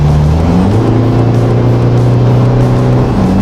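An Isuzu MU-X tuned to 380 horsepower accelerating in fifth gear around 3,000 rpm, a loud, steady engine drone heard from inside with its pitch climbing smoothly.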